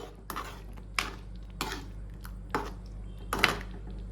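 Chicken stirred with fresh cream in a pan for butter chicken masala, a series of five spaced scraping strokes of a spoon against the pan, near and moderately loud over a low stove hum.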